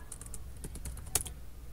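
Typing on a computer keyboard while navigating a file manager, a quick irregular series of close key clicks with one sharper keystroke near the end, with no voices.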